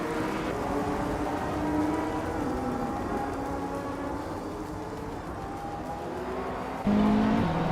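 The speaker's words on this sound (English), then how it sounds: "Scott Dixon just took the lead, moving up to 1st place" Race cars in a video game, a steady loud engine drone with shifting pitch and brief tire squeal, no voices over it.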